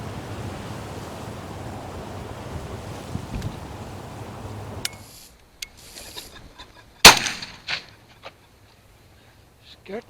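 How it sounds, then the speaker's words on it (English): Amid gusty wind buffeting the microphone, a pheasant bursts up with a sudden loud flurry of wingbeats and calls near the seven-second mark, followed by a few fainter flaps. Earlier there is steady wind noise with a voice present. "Scared the dung out of that pheasant wherever he came from."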